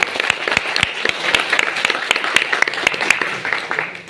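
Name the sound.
audience clapping for themselves at a speech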